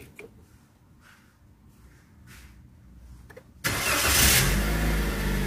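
A car's starter cranks and the engine catches, jumping abruptly from a quiet background to a loud, steady near idle after a few soft clicks.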